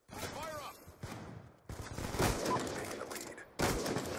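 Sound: sniper rifle gunshot in video game Black Ops 2

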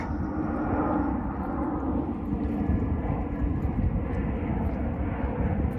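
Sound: airplane flying overhead

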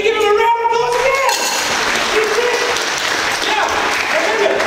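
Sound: audience applause for magic show volunteer

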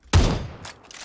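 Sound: Winchester rifle gunshot in video game PUBG

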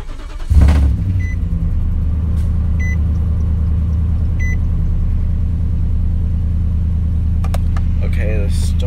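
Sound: Nissan Titan truck engine starting and running

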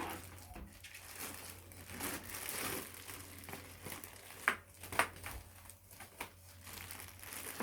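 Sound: Logitech keyboard being taken out of its protective wrapping

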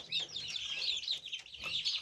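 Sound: turkey poults calling when thirsty and hungry

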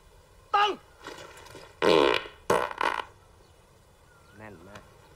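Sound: fart

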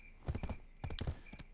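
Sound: horse hooves clip-clopping in Black Desert Online video game

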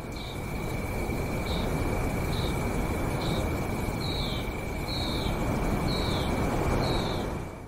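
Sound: crickets and birds at night in video game War Thunder

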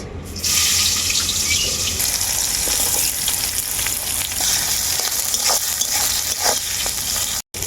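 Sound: chopped onions frying in oil

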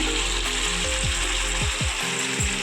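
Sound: meat being sautéed in a pan

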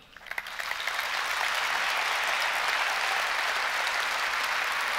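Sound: audience applause

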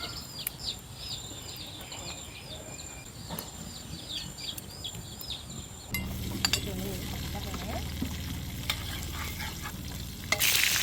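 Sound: coffee being pan-fried (roasted) while stirred

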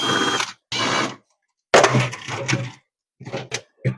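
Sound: unscrewing screws on refrigerator fan cover

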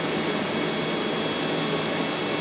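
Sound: cooling fan of a Bitmain Antminer L3+ mining machine

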